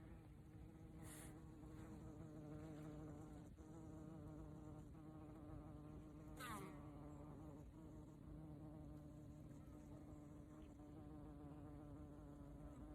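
A steady, dense drone of many honeybees buzzing close by at a hive, with individual bees zipping past now and then.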